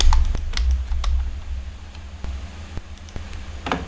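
Keys clatter on a computer keyboard during a MongoDB Compass tutorial, in a few scattered close taps and clicks over a low steady hum.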